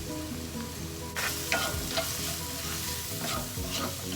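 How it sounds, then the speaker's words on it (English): Onions sizzling in oil in a pan, a close, steady frying hiss that swells suddenly after about a second, with a few scrapes and stirs of a spoon. "Now along with these sizzling onions, I'm adding some garlic."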